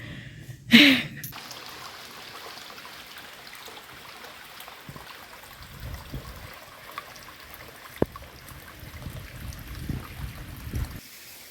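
A creek trickles faintly through a forest, a low, steady wash of flowing water heard from a distance, briefly interrupted near the start by a loud nearby noise and then by a few soft knocks.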